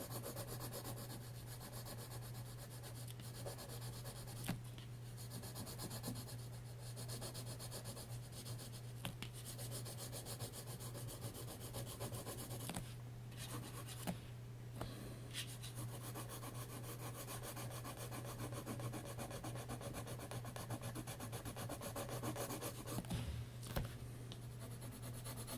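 Pencil rubbing and scratching across paper while an ear is drawn, a steady close scraping texture with small irregular strokes continuing throughout, and a constant low hum beneath it.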